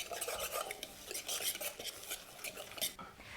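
Potato salad dressing being stirred with a tiny whisk as chives are mixed in, giving quick, close metallic scraping and clinking against a bowl in an uneven rhythm, with no talking.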